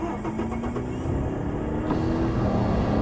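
Ford F-350 pickup with camper in American Truck Simulator, its engine cranking and catching, then settling into a steady low idle rumble, close and loud throughout.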